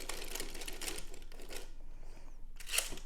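A hand-cranked circular sock knitting machine clatters with a fast, continuous mechanical ticking of needles in the cylinder, fairly quiet and close, easing off briefly before a final burst of clicking.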